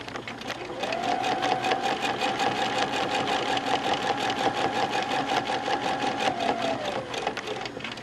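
A sewing machine running steadily through free motion quilting of feathers: a continuous fast rhythmic stitching whir with a sustained motor tone, close and loud, starting after a brief pause and slowing near the end.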